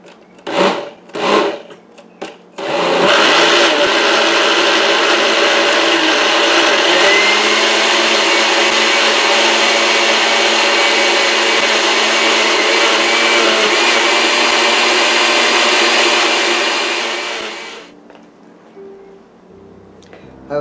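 Blender on low speed whirring through a mango sorbet mix with booze and cream of coconut, starting after a few knocks and running loud and steady for about fifteen seconds before cutting off.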